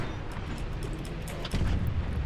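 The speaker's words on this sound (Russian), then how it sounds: "Вот эта пушка прикольнее, которая часто стреляет." Rapid-firing tank cannon in Tanki X booms heavily over a dense, steady rumble, with one especially loud hit partway through.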